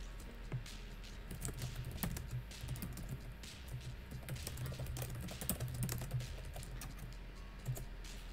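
Computer keyboard keys clacking in a fast, continuous stream of close typing, with faint low background hum and no talking.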